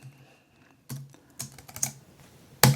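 Code being typed on a computer keyboard in short bursts of close, crisp key clicks with brief pauses between, ending on a louder clack, with nothing else heard.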